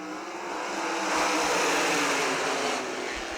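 Sprint cars in a Great Lakes Super Sprints heat race at Millstream Speedway roar past together in a dense, loud engine wash that swells and fades, with no voices.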